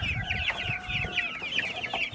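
Farmyard chickens, including big laying hens, cluck continuously and close by, with overlapping chattering calls and no talk.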